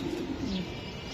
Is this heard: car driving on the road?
no